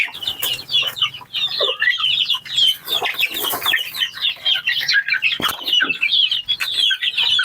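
Four-week-old chicks in a backyard keep up a busy chorus of high peeping and soft clucking, many overlapping calls close by with a faint low hum underneath.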